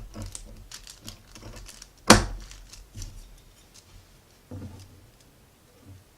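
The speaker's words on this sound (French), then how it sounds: "Je vais commencer par découper mon tissu." Scissors snip through dress fabric on a sewing table in short, quiet crisp cuts and rustles, with one sharper snap in the middle and scattered softer crinkles between pauses.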